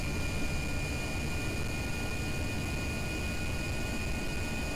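Steady broadband engine roar from a spacecraft in the video game Kerbal Space Program, a single-stage-to-orbit craft under throttle, holding constant and loud with a thin tonal whine above, no voices heard.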